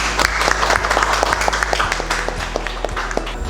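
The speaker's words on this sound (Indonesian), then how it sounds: "Beri tepuk tangan untuk Mas Rizky." Classroom applause in a mechanical engineering lesson, a small group of students clapping with distinct individual claps audible in an uneven, moderately loud patter, fairly close, with a steady low hum underneath.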